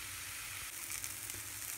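Finely chopped onion fries gently over low heat in a pan, a steady soft sizzle and crackle heard close and alone, with a few faint stirring knocks.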